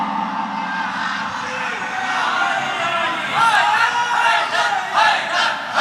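A large crowd at a religious celebration of Ghous-e-Azam's birth anniversary raises loud chanted slogans in unison, voices swelling in rhythmic bursts after a quieter murmur.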